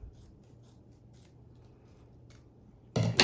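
Scissors snip through Winter Wonderland wreath material in a series of faint, quiet cuts over a hushed room, ending in a louder, closer scrape of handling.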